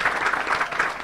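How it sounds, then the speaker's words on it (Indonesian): Brief burst of steady studio applause at a televised capital market dialogue, loud and dense with a gently pulsing rhythm and no voices over it. "Kita berikan tepuk tangan untuk kita semua pada kesempatan ini."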